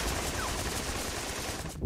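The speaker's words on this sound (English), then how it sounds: "Let's go ahead and fire again on those troops out there." Dense gunfire pours onto enemy troops in a brutal World War 2 turn-based strategy game, a continuous loud fusillade of overlapping shots and machine-gun bursts filling the whole stretch without pause.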